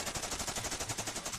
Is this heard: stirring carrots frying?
no